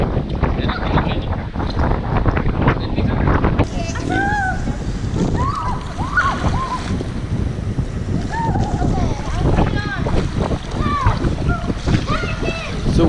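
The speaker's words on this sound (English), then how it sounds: "So windy as well at the same time." Strong wind buffets the microphone continuously outdoors at Wynn Palace in Macau, a loud rumbling roar with splashing water sounds under it.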